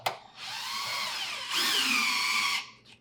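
A power driver with a 13 mm (1/2 inch) socket turns the rear leveling leg adjustment rod on a Fulgor Milano F7 built-in appliance, giving two steady high whirring bursts close by, the second slightly louder, then stopping.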